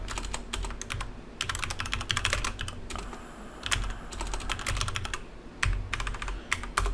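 Someone types steadily on a computer keyboard up close, producing clusters of crisp key clicks in quick irregular runs with brief pauses between them, and no speech.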